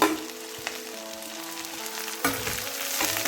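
Chopped jackfruit fibre dropped into a hot pan, with a steady close frying hiss, a soft clack at the start and a louder rush of sizzle near the end.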